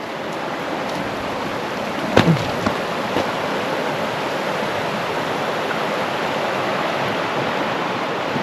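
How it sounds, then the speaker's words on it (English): Steady broadband rush of a creek flowing in Alaska, continuous and fairly close, with a couple of brief faint knocks near the start and no talking. "We're in Alaska, this is a creek"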